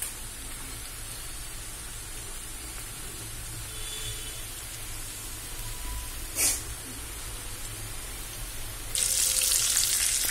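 Amaranth leaf pakodi fry in hot oil with a steady, close hiss of bubbling, a brief crackle in the middle and a brighter, louder sizzle near the end.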